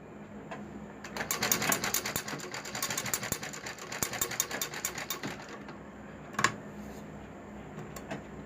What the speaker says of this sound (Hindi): अब इसे हमें यहाँ पर डबल सिलाई मारते हुए यहाँ से यहाँ तक लानी है।